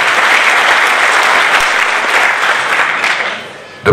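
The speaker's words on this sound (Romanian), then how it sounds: "aș vrea să-i aplaudăm pe acest primar și pe ceilalți 5 de pe Valea Siretului" Dense, steady applause fills a political rally crowd in Pascani, Romania, loud and sustained before tapering off near the end.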